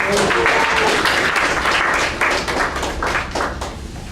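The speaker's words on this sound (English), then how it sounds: "Give a big round of applause." Applause from the audience at the close of a Toastmasters club meeting, a dense, steady patter of many hands clapping close by for about four seconds, easing slightly toward the end.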